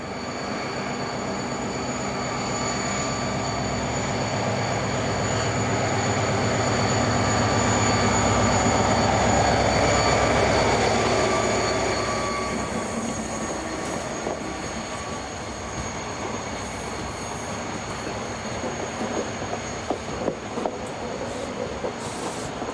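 Class 333 diesel locomotive 333-040 hauling a Talgo passenger train from Salamanca to Barcelona, rumbling past with a steady engine drone that swells near the middle, then fades to rolling wheel clatter and light rail clicks.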